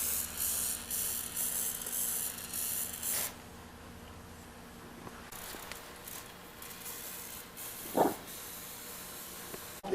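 A steady spray paint hiss runs for about three seconds, then stops, followed by quieter rustling and a brief soft bump near the end.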